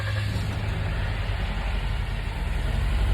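A 2020 Jeep Wrangler JLU with a 2.0 gas turbo engine idles in a steady, even rumble, close and constant throughout.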